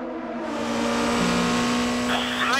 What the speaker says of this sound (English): Brendan Hartley speeds by into the lead in the number 2 car